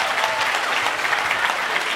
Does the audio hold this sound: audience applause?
yes